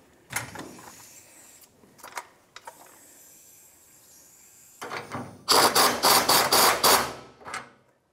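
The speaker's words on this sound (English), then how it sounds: "Let the jack down." A jack is let down beneath a 1992-1996 Ford F-150 during a rear fuel pump swap, with scattered scrapes and clanks building into a loud, rapid run of metallic clicking and rattling near the end.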